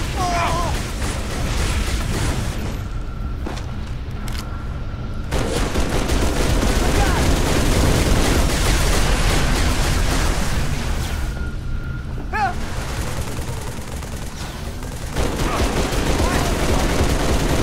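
Sustained heavy gunfire from Halo 3 weapons in a battle while holding out for Pelicans, loud and nearly continuous with dense bursts and a few brief lulls, with voices faintly in the mix.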